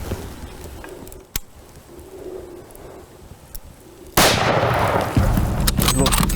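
A single rifle shot rings out on a buffalo hunt, a sudden sharp crack after quiet outdoor ambience with faint birds, followed by loud rumbling noise close to the microphone.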